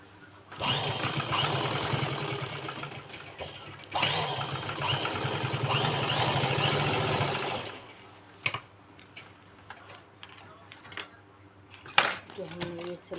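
A sewing machine stitches a handbag made from a plastic sack, running in two long steady whirring bursts, then stopping for scattered clicks and handling noises.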